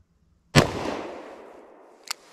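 A single sharp gunshot from a S&W Governor revolver firing .45 Colt, loud and close, with a long decaying echo trailing off, then a brief faint click or tick near the end.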